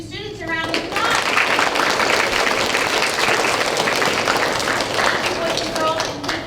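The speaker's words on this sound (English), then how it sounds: "let's give these two students a round of applause" A school audience at a fifth grade celebration breaks into applause for two students, dense crowd clapping that swells quickly and holds steady and loud, with some voices mixed in.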